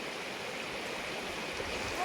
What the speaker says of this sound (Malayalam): ഈ വെള്ളത്തിൻ്റെ മാത്രം ശബ്ദം കേട്ടുകൊണ്ട് ഇവിടെ ഇരിക്കാം